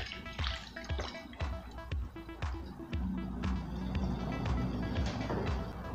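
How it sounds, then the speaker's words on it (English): Water poured into a bottle holding drain cleaner, a steady liquid splashing and dripping with irregular taps and clinks, loudest in the second half and heard up close with no talking. "Now pour some water."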